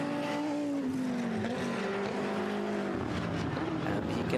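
Porsche 992 Cup GT race cars from GT Sports Technologies roar past on a circuit, engines droning and shifting pitch as they pass, under a steady trackside din.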